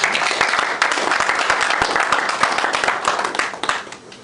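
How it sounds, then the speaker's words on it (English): An audience at a regional police award presentation applauds an award winner with dense, steady clapping from many hands that holds throughout and tapers slightly at the end. "I think Kadi deserves a very warm"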